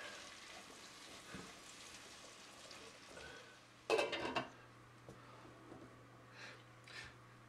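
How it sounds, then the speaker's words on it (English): Onions stirred in a pot for homemade French onion soup, a quiet sizzle running throughout with a short burst of scraping and clattering in the middle and a few fainter knocks afterward. "get all the onions in and give it a good stir"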